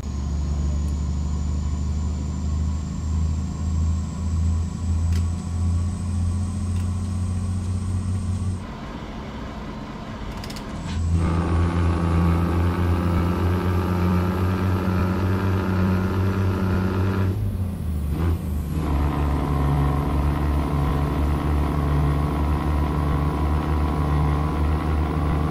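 Scania 144L 530 truck engine in Euro Truck Simulator 2 drones with a loud, steady low rumble, dropping briefly as the engine note cuts and shifts, then climbing back with a rising whine through gear changes.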